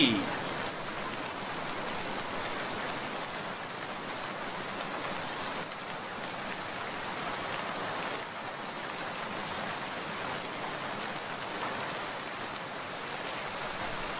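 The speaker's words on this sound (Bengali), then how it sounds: "বৃষ্টিতে একেবারে ভিজে গেছো" Steady rain pours down as a dense, even hiss that stays constant and fairly close for the whole stretch, with no breaks.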